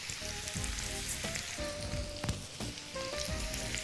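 Meatballs sizzle steadily in a pan with onions, a dense, continuous frying crackle with small pops, close and fairly loud, no voices.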